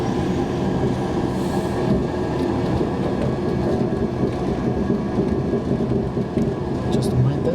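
A train passes close by in Merseyside, producing a loud, continuous rumble and rattle of wheels and carriages that holds steady for the whole stretch.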